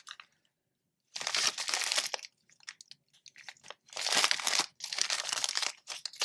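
Crinkly plastic packaging being handled and torn open while unpacking gem beads, in close, loud bursts of crackling separated by short pauses.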